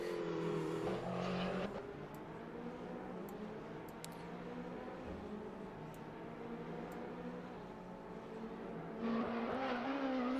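Porsche and Ferrari race cars in a sim-racing endurance event at Imola, engines droning steadily with shifting pitch as they run close together, loud and continuous with no talk.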